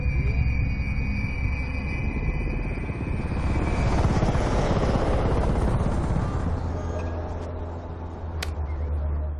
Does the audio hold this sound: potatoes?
no